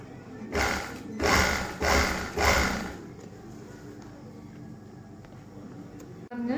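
A sewing machine stitches piping onto a diamond-shaped chudithar neck in three short, loud whirring bursts with brief pauses between them, then falls quiet.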